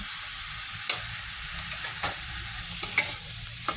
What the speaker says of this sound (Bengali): হালকা করে ফ্রাই করে নেব।